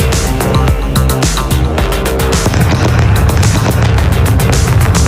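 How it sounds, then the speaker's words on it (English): Loud, deep booming rumbles from a SpaceX Starship booster's two sonic booms roll through a noisy room, with sharp thudding bursts over a continuous low roar. "Just heard the 2 sonic booms here in the room."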